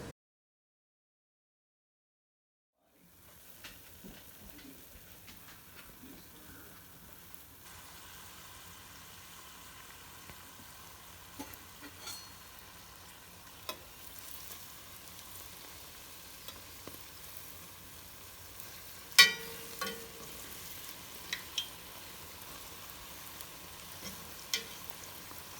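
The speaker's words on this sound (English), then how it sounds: "you're going to want to try and make all of the donuts the same size so they all cook nice and evenly" Loukoumades, Greek honey donut dough, fry in hot oil with a quiet, steady sizzle that starts after a few seconds of silence, broken now and then by small pops and clicks.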